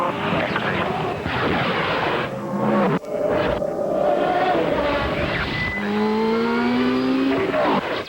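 A race car engine roars and revs at close range, loud and continuous with rising pitch sweeps and a brief drop partway through, set against background music.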